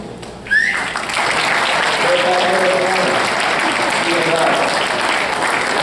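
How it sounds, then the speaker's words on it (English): An awards ceremony crowd in a Naples, Florida ballroom gives steady, full applause that swells in quickly and holds, with a voice talking faintly underneath. "A nice round of applause."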